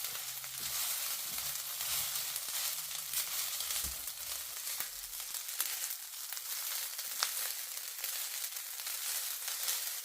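Garlic fried rice sizzles and crackles in a pan, a continuous close hiss with occasional stirring scrapes and light knocks, no voices.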